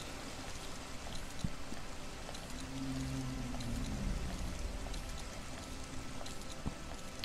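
Steady broadband rush of a waterfall in the video game Grow Home, continuous and fairly quiet throughout with a brief tonal swell in the middle and no voices.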